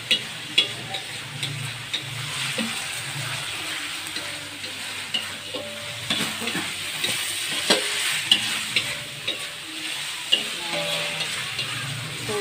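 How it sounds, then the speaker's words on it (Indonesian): Tempe orek with sweet soy sauce being stirred in a pan, a steady sizzle broken by repeated spatula scrapes and taps against the pan at an irregular rhythm, close and alone. "Kita aduk sampai rata."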